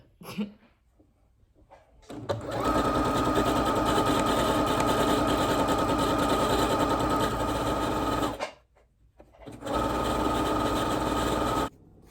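A sewing machine stitches a satin-lined bonnet, running in two loud, steady bursts of rapid mechanical whirring separated by a brief pause, with no talking.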